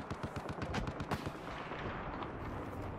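Rapid automatic gunfire from a Battlefield 4 match, a dense, loud run of close shots with a few heavier bursts before the firing thins into a rumbling tail.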